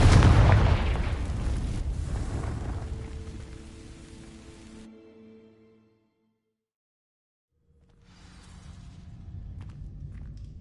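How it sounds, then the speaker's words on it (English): The Confringo fire spell bursts in Hogwarts Legacy, setting dry vines alight with a loud roaring blast that fades into crackling, drops to near silence, then a softer rumble returns. "These dry vines are one spark away from becoming kindling. Confringo!"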